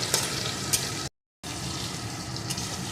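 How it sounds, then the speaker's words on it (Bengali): Salted potato pieces fry in mustard oil, giving a steady, even sizzle that cuts out to brief silence in the middle before resuming. "এখন আলুগুলোকে সুন্দর করে ভেজে নেব"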